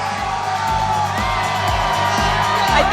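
A large crowd of Texas Rangers fans cheers and whoops at the 2023 World Series championship parade in Arlington, a dense, continuous roar of yelling voices that stays loud throughout.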